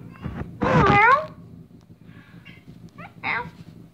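A cat meows loudly up close, a drawn-out harmonic cry, followed by a couple of softer, shorter meows over low background noise.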